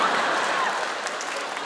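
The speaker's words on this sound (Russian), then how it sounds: "Ваши аплодисменты, ребята." Audience applauding steadily at the close of a comedy battle show, dense clapping from a crowd filling the room at an even level for the whole moment.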